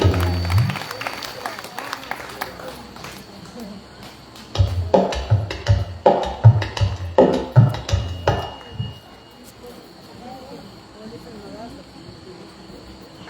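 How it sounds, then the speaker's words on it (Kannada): Audience applause at a devotional purana program honoring Shivasharane Niloor Nimbekka: a few seconds of rhythmic clapping rise in the middle, building in pulses and then fading back into a murmuring hall with faint insect-like chirping. "ಜೋರಾದ ಚಪ್ಪಾಳೆಯನ್ನು ತಟ್ಟಿ ಗೌರವಿಸಬೇಕಾಗಿ ವಿನಂತಿ"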